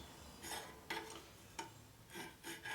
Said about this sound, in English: Deburr my edges now